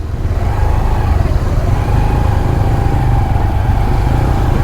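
Motor vehicles drive along a hill road near Kudal, their engines droning loud and steady throughout with no break, and no talk over them.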